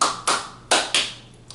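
Four sharp taps in the uneven, lilting pattern of a Colombian pasillo rhythm, bright and close, with a faint fifth tap trailing off; no voices.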